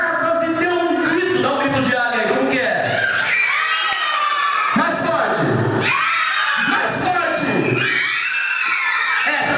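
A group of children at a church kids' service shriek and shout together, imitating an eagle's scream in loud overlapping high-pitched bursts.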